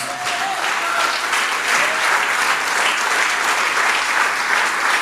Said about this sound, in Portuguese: você pode agora aproveitar e aplaudir o nome de Jesus